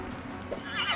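A horse neighs in the fantasy role-playing game Pathfinder: Wrath of the Righteous, a short, close whinny with faint hoof clatter beneath it.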